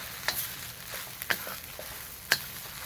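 Eggs being scrambled and frying for hibachi garlic fried rice: a soft steady sizzle with a few sharp clicks and scrapes of a utensil against the pan, fairly quiet and close.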